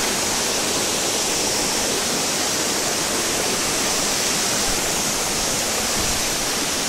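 Kongala waterfall near Warangal pours steadily, a dense, loud, continuous roar of rushing water that fills the whole scene without pause or voices.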